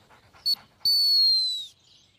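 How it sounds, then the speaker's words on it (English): A flat coat retriever, a trained gun dog, gives a short high whine followed by a longer, steady high-pitched whimper, close and clear with no talk. "five flat coat retrievers, all of them trained gun dogs"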